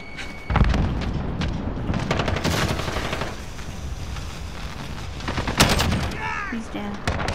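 Gunfire and a grenade blast ring out in Call of Duty: Modern Warfare, with dense bursts of shots, a sharp explosion and in-game effects, loud and continuous, while a player talks over the action.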